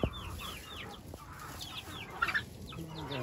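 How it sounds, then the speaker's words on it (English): Farmyard chickens, including broilers, cluck and chatter close by in repeated short calls, with a brief louder squawk partway through and a few faint sounds behind. "Let's see what's going on with these chickens."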